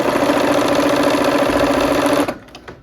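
A sewing machine runs steadily stitching quilt seams for a cherry blossom quilt, a continuous close whirring hum that stops abruptly near the end, leaving faint clicks.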